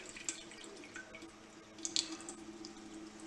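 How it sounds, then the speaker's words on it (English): Water runs from a tap into a container in a home kitchen, a faint trickling stream with a few small drips and splashes, fairly quiet and steady. "we're going to go ahead and fill this up here with water"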